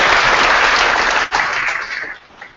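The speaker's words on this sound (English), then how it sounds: "Please give yourselves a round of applause." An audience at a University Park event applauds itself: loud, dense clapping that fills the opening, dips briefly, then continues before fading out toward the end.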